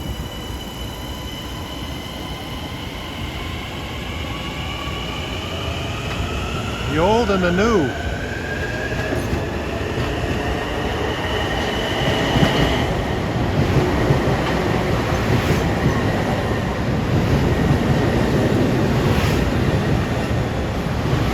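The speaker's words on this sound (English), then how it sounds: "we got a train for Farmingdale with M3s coming." A Long Island Rail Road train of M3 cars approaches a triple-track station at dusk, bound for Farmingdale, a steady rumbling roar with rising wheel and motor whine and rhythmic clatter that grows louder, as someone speaks briefly over it.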